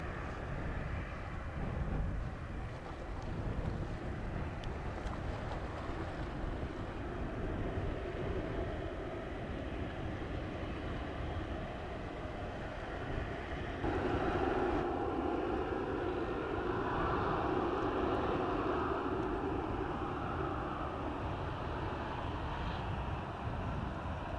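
An airplane landing on runway 07 at Montego Bay airport, Jamaica, heard as a distant, steady low roar that holds for the whole stretch and grows a little fuller partway through, with no voices.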